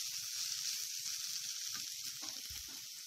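Grated potato fries in a pan, giving a quiet, steady sizzle with a few soft stirring knocks and scrapes underneath.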